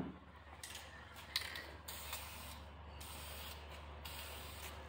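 Reef blue metallic paint sprayed onto a 2022 Harley-Davidson Fat Boy part, a few soft hissing bursts of the spray gun with short gaps over a quiet low hum, close and fairly faint.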